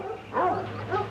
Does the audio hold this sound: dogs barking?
yes